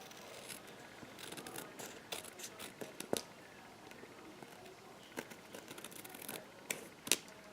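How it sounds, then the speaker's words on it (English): Snips cut through patterned scrapbook paper on a mini album, a series of quiet, crisp snips and small crackles spaced irregularly and close by. "I'll just get my snips and cut this back."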